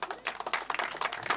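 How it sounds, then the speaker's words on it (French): A crowd at the Enduro des Roches motorcycle event claps for enduro rider Seb Arvis in a brief, dense burst of applause. "Voilà, on peut l'applaudir."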